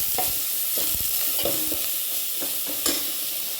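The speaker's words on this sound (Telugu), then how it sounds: "డ్రమ్ స్టిక్స్, అలాగే లేడీస్ ఫింగర్ వేసి వేయించుకోవాలి." Bottle gourd, brinjal, drumsticks and okra frying in a steel pan, a steady close sizzle with regular stirring scrapes and knocks of the spoon, no voices.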